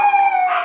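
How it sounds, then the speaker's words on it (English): A dog lets out a single loud, drawn-out, tonal yelp that is close and sharp and almost howl-like, lasting under a second, with no talking over it. "why is he barking so loud?"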